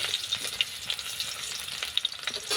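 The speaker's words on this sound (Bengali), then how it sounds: "পেঁয়াজ আর তেজপাতাটা একটু লাল করে ভেজে নেব।" Chopped onions and bay leaves frying in oil after eggs, a quiet close crackle and sizzle with small pops and light stirring scrapes.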